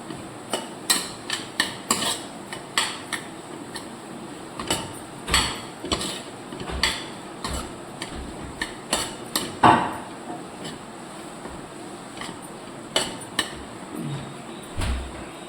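Metal spoon stirring masala powders in a pan, with irregular clinks and taps of utensil on metal scattered through, close and fairly quiet, no talking.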